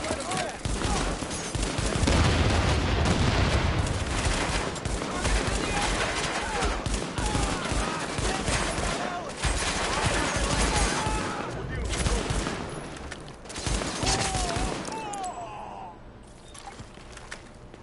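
Gunfire in a firefight with Cleaners in The Division, dense rapid bursts and scattered shots mixed with voices, easing off near the end.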